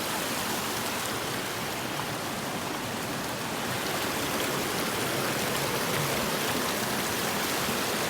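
River water rushing steadily along a hiking trail near Tangerine Falls, a loud, continuous broadband roar that stays even throughout, with no voices.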